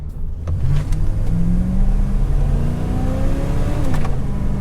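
1997 Ford F250 pickup with a 7.5 liter 460 V8 accelerating hard, a loud sustained engine roar climbing in pitch through a gear change, close and without speech.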